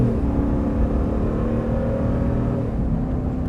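A 2020 RAM 2500 Power Wagon gas engine with 410 horsepower and an 8-speed automatic idles close by as a steady, low rumbling drone with no talk over it.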